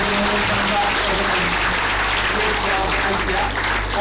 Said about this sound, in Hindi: तो इन बच्चों के लिए एक बार जोरदार तालियां बनते